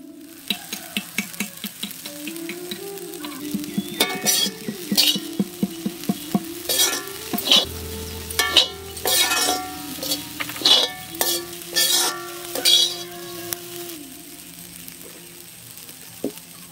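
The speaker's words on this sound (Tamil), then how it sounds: "அரிசி மாவை இந்த மாதிரி கிண்டிக்கிட்டே இருந்தாதான் உக்காளி பொடிக்கு தேவையான பதத்துக்கு வரும்." Rice flour stirred in a pan for traditional ukkali puttu: repeated scraping strokes of a utensil against the pan over a steady faint sizzle, continuing for many seconds with no talk.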